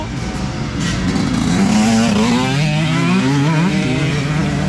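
A motorcycle engine revs hard and steadily, its pitch climbing and dipping in repeated waves, loud and close throughout.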